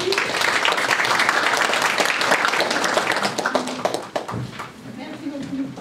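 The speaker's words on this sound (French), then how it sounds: "Alors, on va les applaudir" Audience applause at a university professor's final lecture, loud dense clapping from a large room that thins out and fades after about four seconds, with a voice briefly speaking as it dies down.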